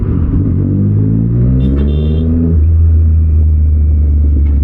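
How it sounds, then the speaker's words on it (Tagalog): A motorcycle's exhaust roars loud and close during a ride, the engine note rising as it revs up through a gear, then dropping to a steady low drone, with wind rumble and no voices. "tambutso lang yung naririnig"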